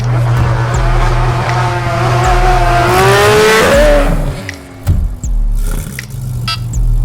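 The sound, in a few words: car accelerating with the accelerator floored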